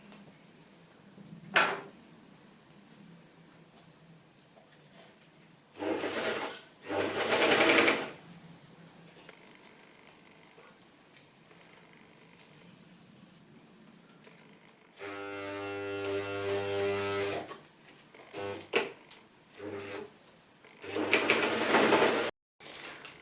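A sewing machine stitches supple upholstery fabric for a dash top, running in several loud close bursts of rapid needle whirring separated by quiet pauses and brief handling clicks.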